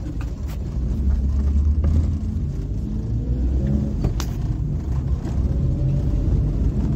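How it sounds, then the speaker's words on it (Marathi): A car drives at night with a steady low engine rumble and road hum from inside the cabin, continuous and moderately loud with faint whirring tones above. "ड्रायव्हर चल गाडी चालव."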